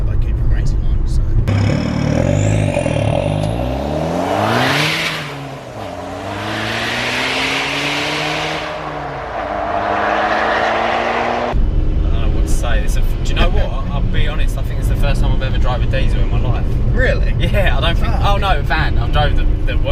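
A diesel Skoda Octavia vRS engine revs and accelerates under light throttle, its tone rising and falling loudly for several seconds before road and cabin noise take over, with people talking over it.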